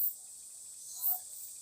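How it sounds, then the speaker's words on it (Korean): Cicadas singing somewhere outdoors in the countryside, a continuous high, shrill buzzing drone that swells briefly partway through, with no talking. "매미 소리 들리세요?"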